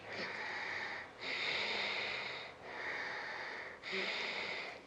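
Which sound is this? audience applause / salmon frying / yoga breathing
yoga breathing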